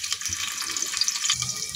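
Onion dropped into hot oil in a pressure cooker, a soft, steady hiss of frying at moderate level with no talk.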